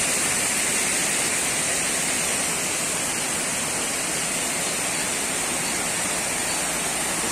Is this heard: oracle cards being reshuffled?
no